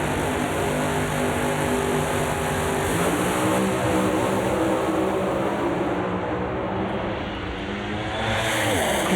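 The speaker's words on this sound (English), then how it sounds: "Great race, door handle to door handle. They hit the finish line." Two drag race cars run side by side down the strip at a Route 66 Nationals event in Chicago, a sustained loud engine roar heard from a distance that stays steady throughout with no talking.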